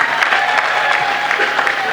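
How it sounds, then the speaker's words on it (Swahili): A hall audience applauds steadily for the Benjamin Mkapa zonal hospital, with a dense, even wash of clapping over a faint crowd murmur. "Tuwapigie makofi mengi sana."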